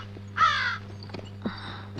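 Two loud, harsh crow caws close by, the first at about half a second and a second longer call near the end, over a steady low electrical hum in a quiet hillside home setting.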